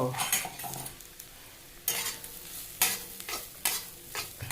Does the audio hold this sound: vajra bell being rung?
no